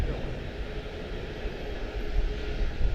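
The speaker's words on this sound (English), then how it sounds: "Departing here at CLT Charlotte-Douglas" A departing airliner at Charlotte-Douglas International Airport on a breezy afternoon produces a steady low engine roar that swells slightly toward the end, distant and continuous with wind noise mixed in.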